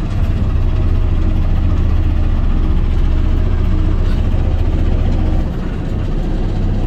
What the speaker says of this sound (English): Idle it up a little bit and pull the knob up and the bed will ride.